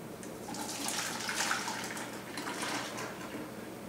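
Homemade V8-style vegetable juice is strained, giving a steady close pouring and trickling wash of liquid that swells and eases slightly over a few seconds, with no voices.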